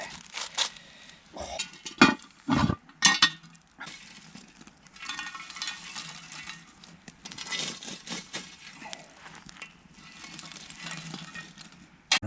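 Food being stirred and mixed through its juices in a pan over a campfire in the bush, with wet scraping and sizzling clatter, a few loud knocks early on, and brief spoken exclamations.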